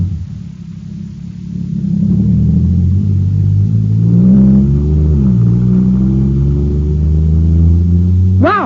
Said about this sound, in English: Wow, this jet cycle is supercharged now.